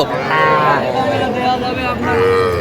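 Two drawn-out bull calf moos at a cattle market, close and loud, separated by a brief pause, with a murmur of voices in the background.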